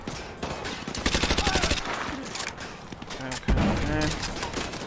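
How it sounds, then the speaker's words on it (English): Bursts of rapid gunfire and heavy firefights in a Call of Duty: Modern Warfare 2 campaign battle, loud and continuous, with a voice talking over the shots. "We're under heavy fire, sir."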